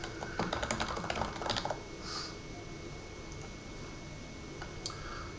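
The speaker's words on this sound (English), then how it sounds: "type it in" Quick bursts of computer keyboard typing for about a second and a half, close and clear, then a soft tap or two over a quiet room hum with no talking.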